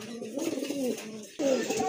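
A pair of Shirazi pigeons coo in a short run of soft, close-up calls with a brief pause before a louder burst.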